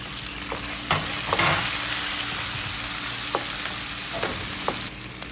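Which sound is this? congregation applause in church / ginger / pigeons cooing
ginger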